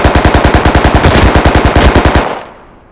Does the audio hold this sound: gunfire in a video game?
yes